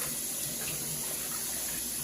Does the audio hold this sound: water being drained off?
yes